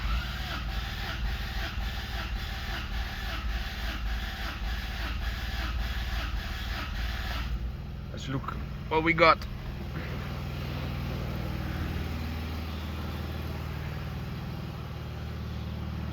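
A BMW car engine idles steadily nearby, a low continuous rumble, with a short burst of mechanical clatter and someone speaking briefly partway through.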